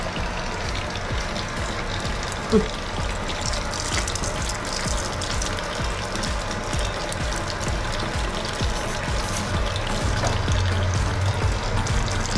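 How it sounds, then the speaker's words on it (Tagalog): Water pouring into an aquarium tank set up with an under-cabinet sump, a steady rushing, gushing flow with a faint mechanical rattle underneath, continuous and close with no talk. "lalagyan na natin siya ng tubig"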